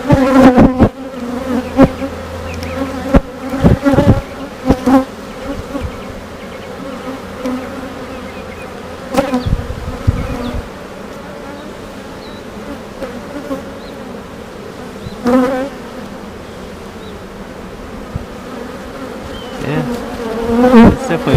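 A honeybee queen pipes inside a backyard hive, a steady tonal hum layered over the dense buzzing of the colony, with a few louder bursts of close wing noise and bumps against the wooden box.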